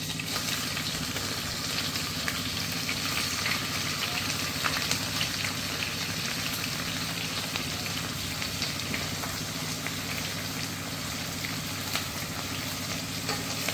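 Three or four green chillies fry steadily in hot oil as a base for chicken biryani, a continuous close sizzle and crackle with no talking throughout.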